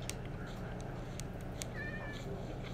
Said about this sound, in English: I'm gonna go back to where all the cats are. Try to get me a cat.